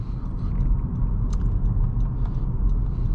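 A 2019 Honda Civic Sport accelerating on a test drive, heard from inside the cabin as a steady low engine and road rumble, moderately loud and continuous, with a few faint clicks.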